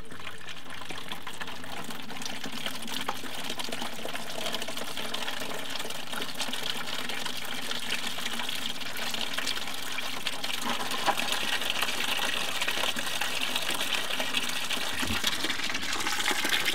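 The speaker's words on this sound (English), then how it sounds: "I'm going to go in the opposite end to flush the engine block" Steady rushing water gushes continuously from a hose flushing a Jeep engine block's cooling system, a constant splashing flow with no speech.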